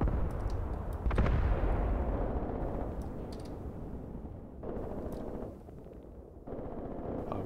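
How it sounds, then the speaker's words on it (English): Artillery fire in the WWII tactics game Graviteam Tactics Mius Front: a heavy boom near the start, then a rumbling wash of distant explosions and gunfire that swells in pulses across the scene, with no voices. "They are using a lot of artillery, but this time it's falling absolutely nowhere"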